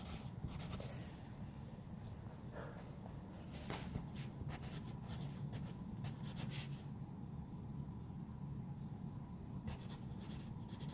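A pen scratches quick, faint strokes across a paper handout while comments are written at an art show judging, in short bursts over a low room hum.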